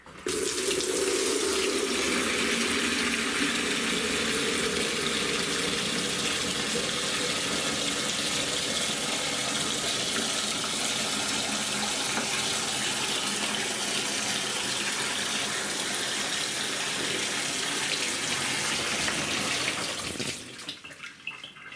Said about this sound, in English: I'll just click start and then open the tap